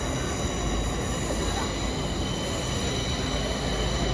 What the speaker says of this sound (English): I saw this train coming in, so I got a little clip of that